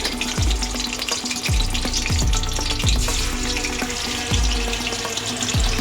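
Katla fish pieces frying in hot oil in a home kitchen, a loud continuous sizzle and crackle with repeated sharp bursts as each piece drops in, no talking.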